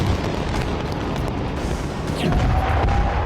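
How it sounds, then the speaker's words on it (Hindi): Heavy bombardment during the Israel-Gaza war near Ashkelon, heard as a dense, continuous low rumble of distant explosions with indistinct booms and a brief whistling tone, swelling slightly louder toward the end. "अश्कलोन समेत कई इलाकों में भीषण बमबारी इजरायल की ओर से हुई।"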